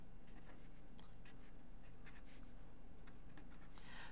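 A pen or pencil scratches out a regression equation on paper in a quiet room, producing faint, intermittent strokes and scribbles with no talking.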